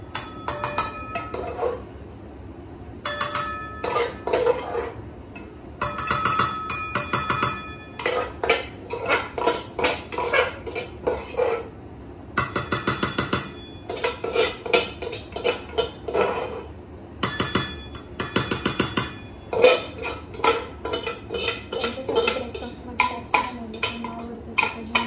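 Lapsi scooped out of a pressure cooker into a container, a busy run of metal spoon scrapes, clanks and clinks against the pot, close and sharp with brief pauses between bursts.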